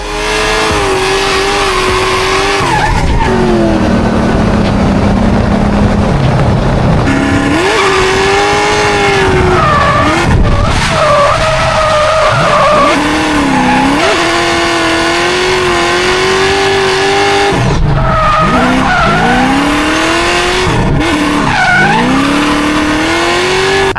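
Race car driven hard on a track, loud and close throughout, with engine revs rising and falling through gear changes and repeated tire squeals and skids in corners; no talking.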